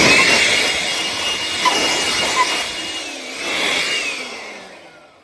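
A loud rushing whoosh of blown air from a blower drying a car headlight during restoration fades and swells before cutting off.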